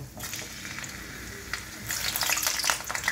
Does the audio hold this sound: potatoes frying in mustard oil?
yes